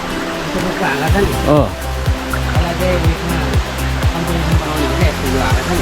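A waterfall roars steadily at close range, a dense broadband rush with regular pulsing thumps, while someone talks over it.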